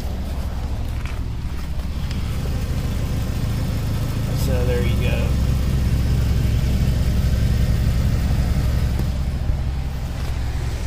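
A 2005 Audi A4 1.8T with a misfire and rough running, idling with its exhaust going, a steady low throb close by with a short voice passing briefly over it.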